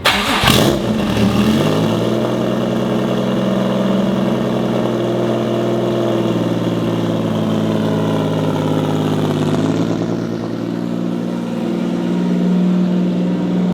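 A Subaru WRX STI swapped with an EG33 flat-six engine, with a large ETS front-mount intercooler, fires up with a brief rev, then settles into a steady, loud, rumbling idle that holds throughout with a slight dip near the end.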